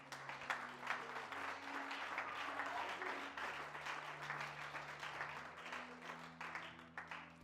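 Congregation clapping and applauding in a church during a worship service, a steady dense wash of applause lasting throughout with a sustained musical tone underneath, no clear talk.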